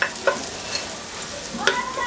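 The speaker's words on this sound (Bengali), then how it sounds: "ওটা দিয়ে একটু ভেজে নিব পেঁয়াজটাকে" A large chopped local onion fries in hot oil for vegetable khichuri, a steady close sizzle broken by three or four quick spatula scrapes; no talking.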